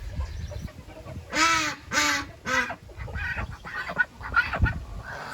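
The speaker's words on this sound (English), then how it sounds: "Ducks are getting a little demanding as time goes on. It's very loud." Ducks in a backyard flock quack and honk loudly and close by, three strong calls in quick succession followed by a scatter of smaller quacks and rustling.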